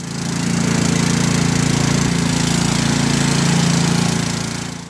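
A machine with a continuously variable transmission drives along, its engine giving a loud, steady mechanical drone with an even rumbling pulse that holds without a break.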